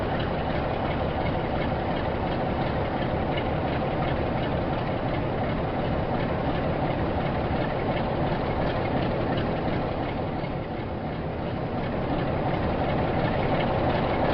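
A Class 47 diesel locomotive in civil engineers grey and yellow livery idles in loco sidings at Penzance in Train Sim World 4, a steady low engine rumble held at an even level throughout, alone without talk.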